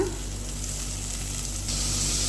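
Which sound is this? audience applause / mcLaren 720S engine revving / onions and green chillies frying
onions and green chillies frying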